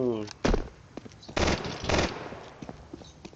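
Counter-Strike 2 gunfire cracks out in a few sharp, loud bursts, one short and two longer spaced volleys, with a voice talking quietly between them.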